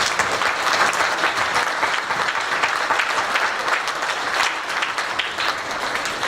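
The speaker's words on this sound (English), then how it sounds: "please put your hands together, take them apart, put them together, you know, the whole clapping thing" Sustained applause from a conference audience fills the space, dense and even clapping from many hands that holds steady throughout without a break.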